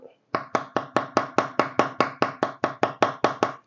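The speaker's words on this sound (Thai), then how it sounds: "สับให้ละเอียดจักหน่อยนะครับ" A knife chops catfish meat for Isan-style larb on a board with fourteen sharp, evenly spaced thuds in quick steady rhythm, close and loud with nothing else heard.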